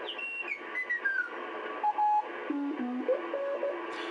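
Tones from a Hammarlund HQ 170 ham radio receiver tuned to Morse code (CW): steady beeps at shifting pitches with sliding whistles, moderately loud over a soft band hiss.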